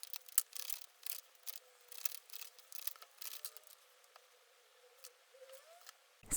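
Cards for an intuitive reading are shuffled by hand up close, giving scattered soft flicks, taps and papery clicks in irregular bursts over a quiet background, ending in a louder knock.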